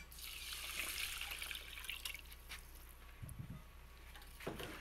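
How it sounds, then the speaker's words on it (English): Water pours into a pot holding rice, a soft steady trickle that is close and quiet, with a few light knocks near the end. "And then our 4 cups of water."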